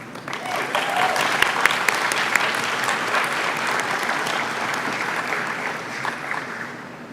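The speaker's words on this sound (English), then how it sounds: "Go ahead and clap." Audience applause fills a nursing pinning ceremony at the University of New England School of Nursing and Population Health, a steady wash of many hands clapping that holds for several seconds with little talk beneath it.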